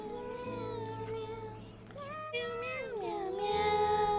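A cat meows several times in a row, drawn-out tonal calls that rise and bend, close and fairly loud over a steady low background hum.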